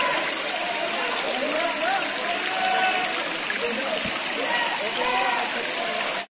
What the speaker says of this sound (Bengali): যে ঝর্ণা বেয়ে পাহাড় পার হয়ে কিন্তু পানিগুলো নিচে পড়তেছে